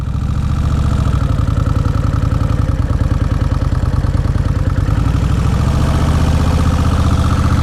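A 2003 Kawasaki Vulcan VN1600 Classic touring motorcycle engine runs steadily near the listener, a loud, even, low throbbing idle with fine mechanical clatter.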